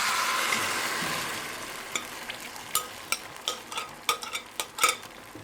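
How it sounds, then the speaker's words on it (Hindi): Spanish omelette (tortilla de patata) mixture hissing loudly as it hits an oiled pan, the sizzle easing off while a run of sharp spoon scrapes and taps punctuates the second half, with no talking. "अब पैन में स्पेनिश ऑमलेट डाल देंगे।"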